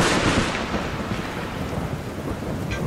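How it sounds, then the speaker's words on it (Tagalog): Heavy rain pouring down in a steady dense hiss while thunder rumbles low underneath, a continuous storm with no voices. "Lalo pang lumakas ang ulan."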